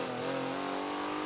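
A Porsche race car engine in the Forza video game at the Road Atlanta circuit, a steady, fairly quiet buzzing drone with rising harmonic tones as it holds revs, brief and without speech.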